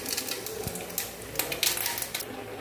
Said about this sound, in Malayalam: ഇനി എണ്ണയ്ക്കകത്ത് ഇച്ചിരി കടുകിട്ട് പൊട്ടിക്കണം